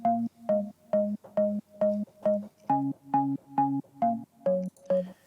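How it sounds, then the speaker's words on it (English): Serum organ synth patch pitched up an octave, repeating short punchy chord stabs in a steady house rhythm, twelve or so evenly spaced hits, close and dry with no talking. "And then I actually layered with this organ from Serum."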